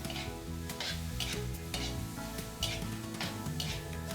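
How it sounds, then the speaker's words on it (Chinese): Beef brisket sizzles in butter in a pan while being stir-fried, with a steady frying crackle broken by repeated sharp scrapes and clinks of the utensil against the pan at irregular intervals. "继续翻炒，直到牛肉开始收缩变得紧实"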